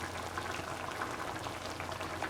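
Okra and ground cashew nut stew simmering in a pot, a steady soft bubbling and light crackle with no voices, even and continuous throughout.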